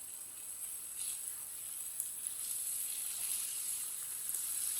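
Chicken and raw mango curry cooks in a pan over high heat, giving a soft, steady sizzle and hiss that rises slightly, faint and alone with no talking.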